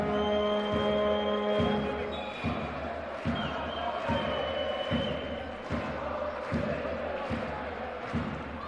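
Crowd noise fills a women's EuroLeague basketball arena after a foul, a steady rumble of voices behind repeated ball bounces and squeaks, with a commentator talking over it.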